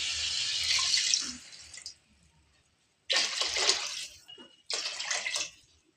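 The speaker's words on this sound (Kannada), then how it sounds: "ಈಗ 4 ಗ್ಲಾಸ್ ನೀರು ಹಾಕ್ತಾ ಇದ್ದೀನಿ" Glasses of water are poured into a pot of masala for chicken biryani, three separate close splashing pours with short quiet gaps between them and no talk.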